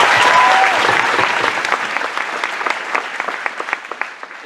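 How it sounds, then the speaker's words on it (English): Audience applause at an Ohio Freedom Fighters political rally, loud and dense at first, then thinning and fading into scattered claps over several seconds, with no talk over it. "So I want to give you guys a round of applause"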